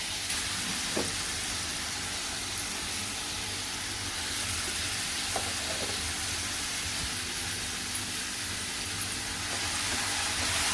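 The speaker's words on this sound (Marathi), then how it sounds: "तेलावरती टाकायचा आहे मसाला आपल्याला" Masala for stuffed pomfret sizzles in hot oil in a pan, a dense steady frying hiss with occasional small pops and stirring scrapes, close and continuous with no talking.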